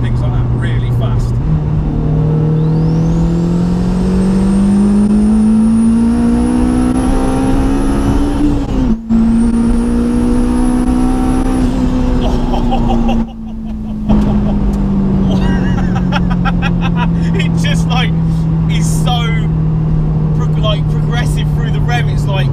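A 430 bhp turbocharged K20-engined Mitsubishi Colt accelerates strongly, its pitch climbing smoothly over long stretches with a high turbo whistle above, briefly cutting at gear shifts; a voice talks over it.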